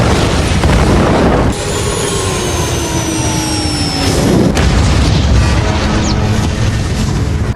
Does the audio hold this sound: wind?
no